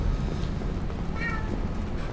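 A single cat meow rises briefly above a dense, noisy background of game ambience in a short, moderately loud burst.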